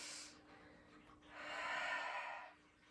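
A deep, slow breath during a yoga session, a brief airy intake followed by a long, broad whooshing exhale, close and fairly soft against a quiet room.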